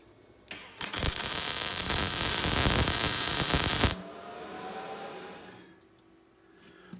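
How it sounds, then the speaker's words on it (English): Welder laying a weld on a corner of a vice grips storage rack, a loud, close crackling hiss lasting about three seconds before cutting off to a fading hum. "the last weld will be in this corner here."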